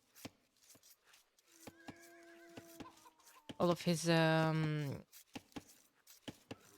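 A scout cavalry horse in a medieval strategy game lets out a loud, shaking whinny midway, among short clicks and softer clucking fowl sounds from the game.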